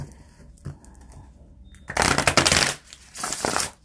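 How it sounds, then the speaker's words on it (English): Tarot cards riffle-shuffled close by, two bursts of rapid crisp fluttering after a quiet start with a few light taps. "let's just see how she shuffles"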